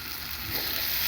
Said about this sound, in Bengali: এবার এই মশলাগুলোকে ভালো করে নেড়ে নেব।